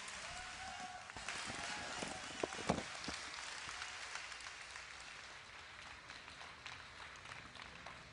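Crowd applause for the champion at the Blizzcon 2010 StarCraft grand finals, heard faint and distant as a steady wash of clapping and cheering in a large hall.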